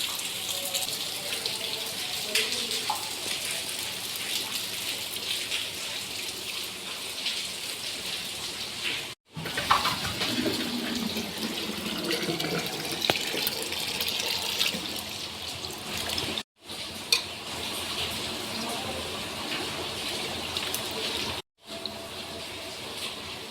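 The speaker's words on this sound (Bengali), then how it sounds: "এই জল ভাতে দেওয়া হবে এবার" Water poured steadily into rice cooking in a home kitchen during a ritual cooking ceremony, a continuous splashing stream broken by a few short pauses.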